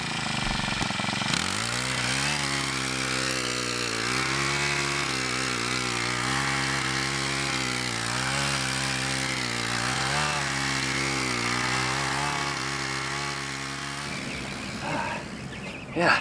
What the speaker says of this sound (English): I next loosened up the soil with my mini cultivator